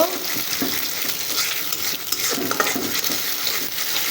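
Egg frying in a pan with rice to follow, stirred with a spatula over a continuous crackling sizzle, close and fairly loud, the scraping strokes steady throughout with no speech.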